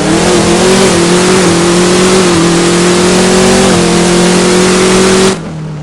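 Dodge Challenger Hellcat drag car accelerating hard in first gear, a loud, steady engine roar holding at high revs for over five seconds before abruptly cutting off, with no talking.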